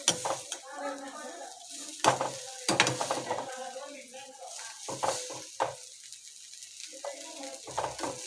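Stale chapati churma mixed with sugar is stirred in a pan. Intermittent scraping and clinking of a utensil against the pan comes in uneven bursts, close and fairly quiet, with soft murmuring in between.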